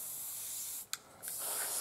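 Vallejo airbrush spraying desert tan surface primer onto miniature models, a steady close airy hiss that breaks off briefly near the middle with small puffs, then resumes.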